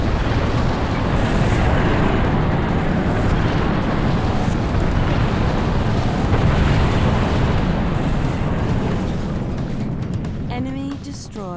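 The Spirit of Fire's orbital weapon fires in Halo Wars, a loud sustained roaring blast like a rumbling eruption that fills the whole span before tapering, with a faint electronic tone at the end.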